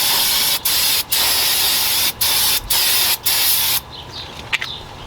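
Brake cleaner sprays onto the parts of a 2008-2012 Honda Accord front brake, loud and close in several hissing bursts with short gaps, then a quieter, intermittent hiss with small clicks at the end.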